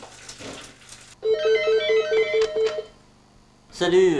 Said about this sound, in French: Oh, téléphone.